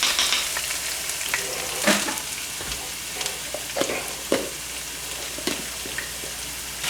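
Generous amount of garlic sizzling in a frying pan over medium heat, a steady crackling fry with scattered pops and stirring scrapes, close and fairly loud, no voices.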